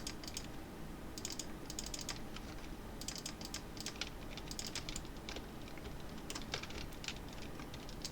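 Loud computer keyboard typing during a Minecraft gaming session, rapid irregular clicking bursts of keystrokes repeating throughout, close to the microphone with no talk over it.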